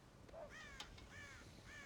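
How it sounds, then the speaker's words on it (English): Crows caw in the Red Dead Redemption video game, several harsh calls repeating at moderate distance over a steady ambient hush, with no talk. "God damn crows!"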